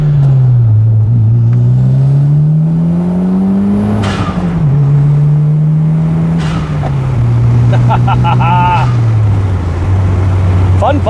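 A 30-some-year-old J-spec Toyota MR2 with about 135,000 km drives and accelerates, its engine note climbing and dropping through gear changes, loud and close throughout, with brief voices over the engine.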